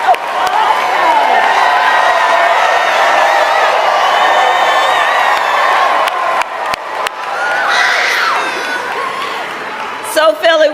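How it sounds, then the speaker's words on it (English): A large political rally crowd in Philadelphia cheers, whoops and applauds loudly and continuously for young first-time voters, the roar dipping briefly before swelling again, with shouts carrying over it. "let us applaud our young leaders, our first-time voters"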